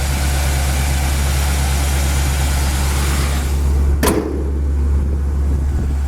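A 1964 Impala Super Sport's 350 V8 idles steadily through new dual exhaust, a deep, even rumble close by, with a brief sharp click partway through.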